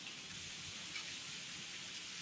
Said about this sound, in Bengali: এরকম বাহিরে বৃষ্টি হচ্ছে আর আমার মুরগিগুলো খাবার খাচ্ছে।